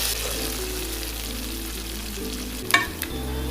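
Ginger, garlic and green chili frying in a pan for mango pickle, a loud steady sizzle with stirring, then a brief clatter of the spoon near the end.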